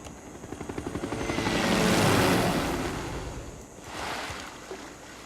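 A helicopter unit in Civilization VI whirs with a rhythmic rotor chop that swells into a loud, broad wash of blade noise, then fades and returns briefly, with no voices present.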